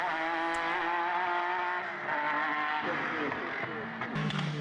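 A Formula BOSS open-wheel race car screams down the straight at Mondello Park, its high engine note loud and sustained with shifting pitch as it passes, under a race commentator's voice.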